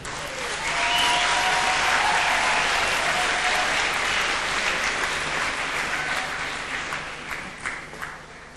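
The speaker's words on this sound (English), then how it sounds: "so give her a big round of applause" Broad, sustained applause from an audience filling a hall for a young singer at the Scór na nÓg All Ireland Final, rising quickly, holding steady for several seconds with a few cheers, then tapering off near the end.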